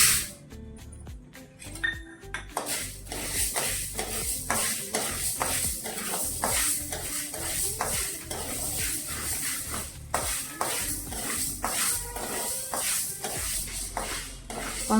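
Green gram (moong) dry roasting in a pan, with continuous rapid scraping and rattling of the grains as they are stirred, plus occasional light clinks, steady and close throughout.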